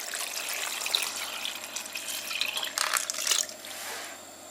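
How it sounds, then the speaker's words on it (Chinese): Clear water poured into a cooking pot holding rock sugar, a continuous close splashing and gurgling stream with some brief louder surges before it tapers off near the end. "再放点清水。"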